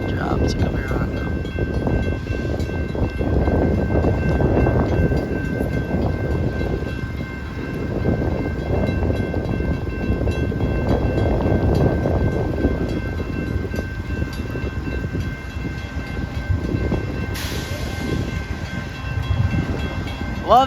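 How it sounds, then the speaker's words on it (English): Amtrak P42 GE Genesis locomotive passing a level crossing in pouring rain, a loud continuous rumbling roar with a steady tone running through it for about twenty seconds, rain hiss underneath and a brief higher sound near the end. "Love the sound of Gevo Genesis stuff, Amtrak engine."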